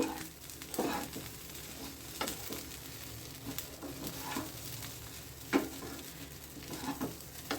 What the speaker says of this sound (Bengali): এবার এটাকে আমি ভালো করে নেড়ে চেড়ে চারিদিকে ঘিটা মিশিয়ে দিচ্ছি